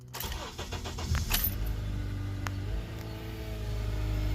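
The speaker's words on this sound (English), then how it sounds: "Now start the vehicle." A Honda Accord engine starts up after an oil change, cranking briefly and then settling into a steady, close idle, with a faint metallic jingle near the start.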